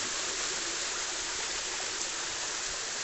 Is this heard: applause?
no